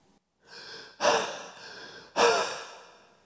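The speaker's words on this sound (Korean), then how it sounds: "사람의 거친 숨소리가 들리는 거예요." Two heavy, rough human breaths, each a loud harsh rasping exhale that swells and fades, close and isolated against silence.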